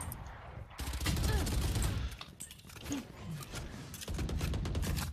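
Gunfire from an AWP sniper rifle in a tactical shooter video game, a few sharp loud shots and bursts over continuous game noise and footsteps, with voices talking throughout.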